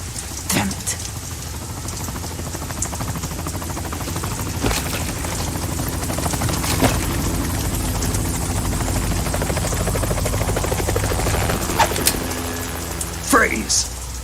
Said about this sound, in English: You will be on the helicopter out of here now.